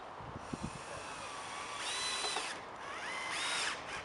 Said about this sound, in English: we'll just screw it in a couple of screws.